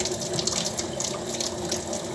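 Water runs steadily from a tap into a sink with a constant gushing hiss, a low pump hum and faint spluttering bubbles mixed in.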